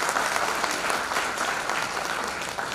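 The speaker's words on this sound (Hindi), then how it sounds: "ताली हो जाए प्लीज" Audience applause at a business plan presentation, steady dense clapping throughout at a fairly even level with no talk over it.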